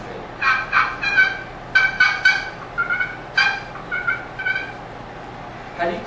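Turkey call worked with a striker on its surface, giving a series of sharp yelps and clucks in uneven bursts, close and fairly loud with short gaps between.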